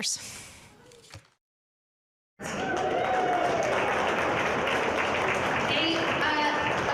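Conference audience applauding the finalists of an investment competition: after a voice and a brief silence, a sudden swell of steady, loud crowd clapping fills the room and continues unbroken.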